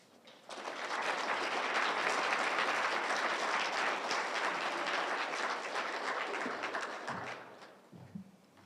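Audience at a literary magazine reading and launch party applauds loudly and steadily for several seconds, a dense sustained wash of clapping that fades out near the end.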